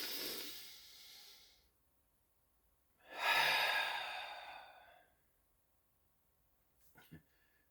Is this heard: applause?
no